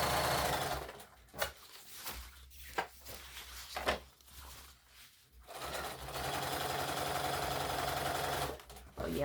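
A Bernina B215 sewing machine stitches fabric through a gathering foot, its steady motor whir interrupted by several brief pauses before running continuously again at close range.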